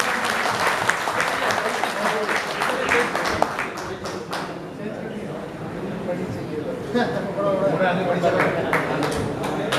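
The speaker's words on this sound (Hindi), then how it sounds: "जोरदार तालियों के साथ आपका" Sustained audience applause fills a hall at an Engineers Day celebration, dense and steady throughout, swelling again toward the end with some voices mixed in.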